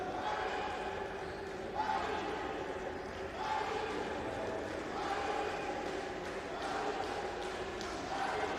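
A basketball arena crowd in Tripoli at an Africa champions clubs game between Stade Malien and Kriol Star keeps up a steady roaring murmur, with a commentator's voice running over it.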